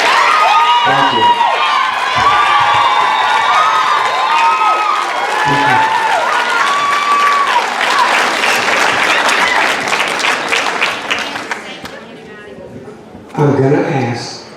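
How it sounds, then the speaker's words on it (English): Audience at a school board town hall on transgender bathrooms breaks into loud applause, cheers and whoops, a dense sustained roar that fades away and then returns in a brief burst near the end. "I don't mind you applauding for whoever it is or whatever you're talking about"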